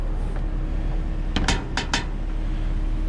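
Scrap wire, including drop cord, is handled by the handful in a dumpster, giving a few sharp metallic clinks and rattles in a quick cluster over a steady background hum.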